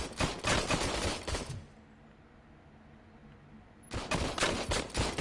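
Bursts of rapid gunfire from an old service gun in a PS5 game, loud clattering volleys at the start, then a quiet gap of nearly two seconds, then another burst of shots at the end.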